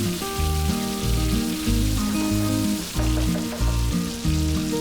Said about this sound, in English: Fry it for about 10 minutes. Make sure the pork is something like this.